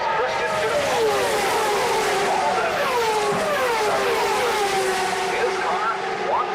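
Indy race cars with Ford Cosworth engines in Lola chassis at the 2000 Michigan 500, a high-pitched pack of engines whining past in repeated overlapping sweeps, loud and continuous.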